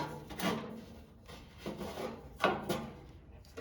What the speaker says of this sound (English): take a pair of channel locks or pliers here, grip the end of the socket here, and twist